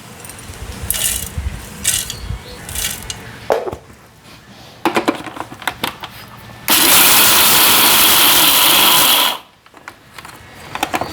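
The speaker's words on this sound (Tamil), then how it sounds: "அதனால் நாங்கள் இந்த கச்சானை வந்து அடித்து தான் எடுக்க வேணும்" A kitchen mixer grinder coarsely grinds peanuts in short bursts, starting and stopping several times before one long, loud, steady whirring run that cuts off abruptly.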